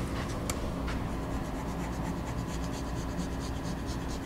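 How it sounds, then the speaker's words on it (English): Eraser rubbing across a Polyvision smart board, a steady continuous scratchy rub with a couple of brief taps early on, close and fairly loud with no voices. "So if I wanted to fine erase it,"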